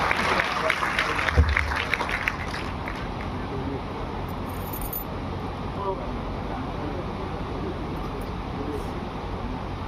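Applause from a theatre audience at a Bhopal staging of a Samrat Vikramaditya play rises briefly at the start as a short burst of clapping, then thins into a quiet murmuring room.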